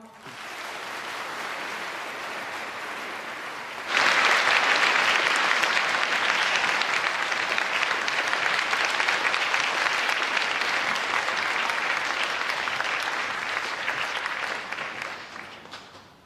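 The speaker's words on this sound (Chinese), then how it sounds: "下面我们以热烈的掌声欢迎李敖先生发表演" Warm audience applause in a lecture hall at Peking University welcoming writer Li Ao to the podium; after a quieter murmur the clapping erupts abruptly and holds dense and loud for about ten seconds before tapering off.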